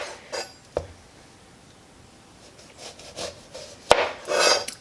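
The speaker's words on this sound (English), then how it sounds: "According to the instructions, we are going to cut off each end." A knife cuts the ends off a lemon on a board, making a few short scraping rasps and sharp taps, the last cut a firm chop followed by a brief rub.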